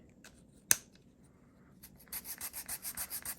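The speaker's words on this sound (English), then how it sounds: "Switch over to the grater." A callus grater rubbing the skin of a hand: a single sharp click, then steady rhythmic rasping strokes scraping back and forth, close and fairly quiet, with no voices.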